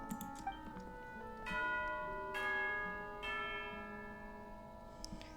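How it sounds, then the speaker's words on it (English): Tea-time bell in a story game: rich, ringing chimes struck several times at a slow, uneven pace, each tone sustaining and overlapping into a shimmering wash, fairly near and clear with no talk over it. "There's the bell."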